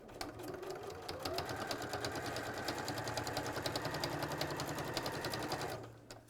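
A sewing machine stitches fabric in a loud, even, rapid clatter that runs for about six seconds and then winds down, with a low motor hum underneath.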